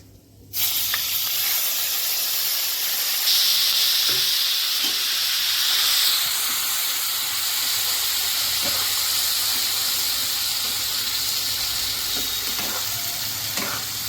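Onion paste frying in hot ghee and oil with whole garam masala, a loud continuous sizzle and hiss that swells as the paste hits the fat, with faint stirring scrapes and taps throughout.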